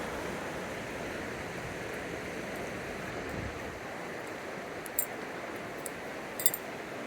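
Steady broadband rush of creek water flowing beside a campground tent site with a bench in Yoho National Park, Canada, continuous and fairly even throughout, with a couple of faint brief ticks near the end.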